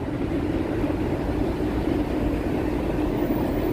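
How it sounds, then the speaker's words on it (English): New York City subway train on the 4/5/6 line rumbling steadily beneath a Midtown street near East 31st Street, a continuous low roar with no clear breaks. "I hear subway. That's a 6 line, but also 4 and 5."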